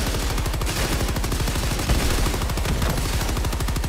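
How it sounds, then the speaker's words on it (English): Rapid automatic gunfire in a snowy blizzard-set tactical shooter game, loud dense bursts of shots rattling continuously in close succession without speech. "Where'd the gunfire come from?"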